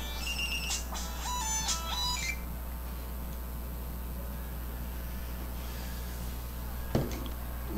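A telephone rings electronically in short repeated tonal bursts over the first two seconds, fairly loud above a steady background hum, during a Rome: Total War tournament match; a brief thump follows later.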